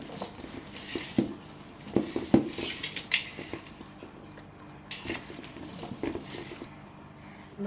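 Mango pickle being stirred in a pot, with uneven clinks and scrapes of a spoon against the metal rim and a soft, wet mixing sound between the strikes.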